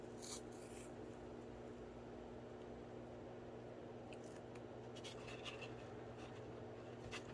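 Soft rubbing and scratchy strokes as the edges of a paper file folder are colored for a journal, faint and close over a steady low hum, with brief brushing bursts and no talking.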